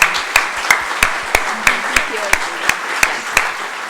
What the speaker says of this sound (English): if you could give a round of applause for Sudha Seshadri